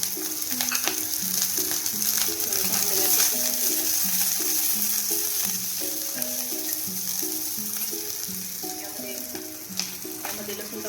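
Chopped onion frying in hot oil in a pan while making Kolhapuri-style misal, a steady close sizzle running throughout with soft rhythmic tapping and scraping of a utensil layered over it.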